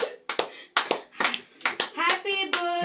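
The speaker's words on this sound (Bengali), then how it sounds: "জোরে জোরে হাততালি।" Hands clap repeatedly at a birthday cake-cutting, bursts of quick claps under excited voices and someone talking nearby, growing into a steady run of applause with singing voices toward the end.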